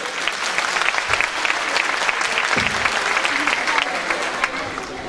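A crowd at a Çankırı community gathering in Turkey applauds, with dense, continuous clapping that stays loud throughout, a few sharper claps standing out near the front and faint voices mixed in.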